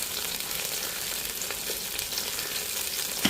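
Food frying in hot oil with a pinch of salt added, a steady close sizzle and crackle that holds at an even level throughout, with no talking.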